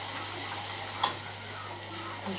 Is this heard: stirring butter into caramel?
yes